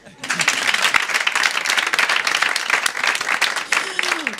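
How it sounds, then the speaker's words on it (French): A congregation claps at a church worship service with a gospel choir, producing a dense, loud wash of applause that runs throughout, with brief voices at the start and end. "On applaudit."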